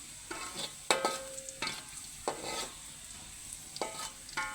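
Jackfruit for gudeg fries in a pan, a steady sizzle broken by several scraping strokes as a utensil stirs and turns the pieces, close and without talk.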